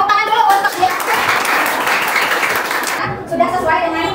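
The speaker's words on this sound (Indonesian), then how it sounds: "Tepuk tangan dulu untuk dia." Classroom applause for a student's answer, a steady burst of clapping from a class of children lasting several seconds, with the teacher's voice heard briefly at the end.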